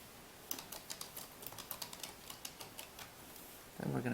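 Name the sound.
typing on a computer keyboard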